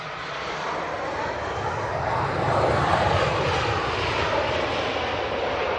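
A Ryanair airliner lands at Manchester Airport, its engine roar a broad, steady rumble that swells to a peak midway and then holds, heard from a distance with no talk.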